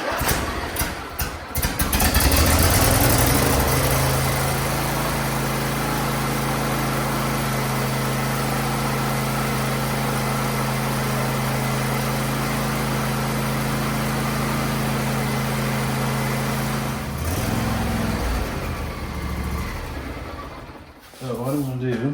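John Deere LA130 lawn tractor engine cranking over and then running with a steady, loud idle drone for about fifteen seconds before cutting back, with a person speaking briefly.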